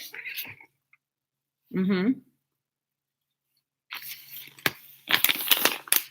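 A cat gives one short, tonal meow in a quiet room, heard close and alone, and is followed later by a person speaking and crinkling rustles of a packet.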